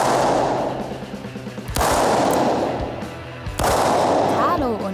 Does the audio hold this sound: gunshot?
yes